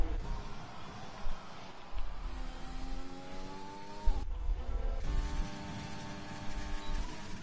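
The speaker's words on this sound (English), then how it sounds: "So we do have Julian on a fast lap at the moment, just going through the first chicane, going through the Curva Grande" A racing car in a video game takes a fast lap through the first chicane at Monza. The engine whines and revs, climbing in pitch and dropping at shifts and braking, then pulling hard again.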